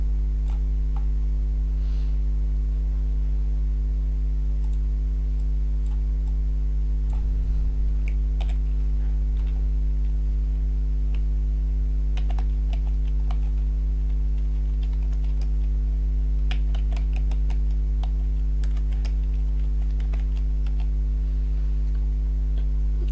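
Fingers tapping on a computer keyboard, typing a college name in scattered bursts of light clicks over a constant low electrical hum, with quiet gaps between keystrokes.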